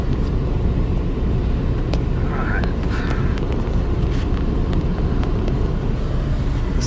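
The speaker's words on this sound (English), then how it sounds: "Let's crank her up. Wow. She runs really well." A VW Beetle convertible with 89k miles idles just after starting, giving a steady low engine rumble heard from inside the car, while someone talks over it.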